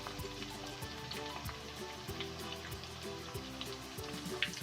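Capsicum pieces sizzle in hot oil in a pan, a steady crackling fry with small pops, heard alone and close.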